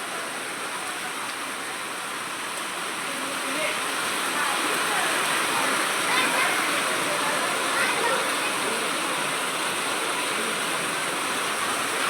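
Heavy rain pours in a village, a dense steady roar of water with runoff streaming off a tin roof, loud and continuous and growing slightly heavier partway through.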